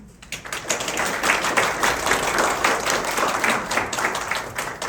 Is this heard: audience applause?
yes